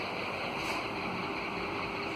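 A BLDC ceiling fan running at speed 4 of 5, about 305 RPM and drawing 20 watts, gives a steady, even broadband whoosh of moving air with no pauses or changes.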